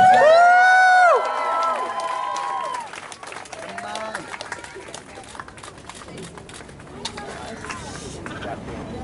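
Crowd cheers and claps to encourage Anthony Brooks during underwater Rubik's cube solving, starting with a loud shout and whistle, then thinning into scattered clapping and murmuring voices.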